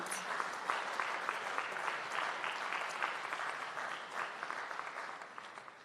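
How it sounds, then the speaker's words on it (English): Steady applause from an audience at a national AI lab signing ceremony in Jamaica, dense clapping holding for about six seconds and easing slightly toward the end, with no one speaking over it. "Let's give a round of applause for the Amber Group, the visionary sponsor of today's event."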